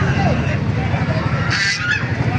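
Texas breed gamefowl chickens at a busy poultry market cluster together in loud, overlapping clucks and calls. A steady rumble of crowd noise runs underneath.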